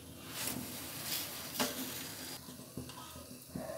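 Moringa paratha frying in ghee on a hot tawa gives a soft, close sizzle with light scraping and stirring touches, a few sharper clicks and no voices.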